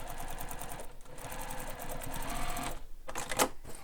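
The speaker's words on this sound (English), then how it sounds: "I'm going to sew over that again, just right beside the seam" A sewing machine runs a reinforcing line beside the seam of a handheld bag: steady rapid needle clatter, close and clear, with a brief pause and a sharp click near the end.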